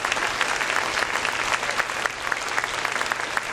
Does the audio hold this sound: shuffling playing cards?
no